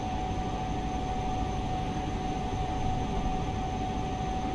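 A Class 43 HST power car with a Paxman Valenta engine accelerating in Train Simulator Classic, its loud, steady whining drone carrying constant tones over a broad rumble with no talk.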